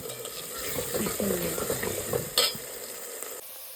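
Washed mutton tipped into a hot pan and stirred, a steady close sizzle with scraping stir strokes and a bright clink partway through, no talk.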